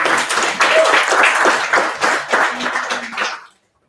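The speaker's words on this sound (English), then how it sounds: "Let's give them a round of applause." Applause after thanks to a sound engineer at an event, a room of hands clapping steadily with scattered voices mixed in, then cutting off abruptly to silence near the end.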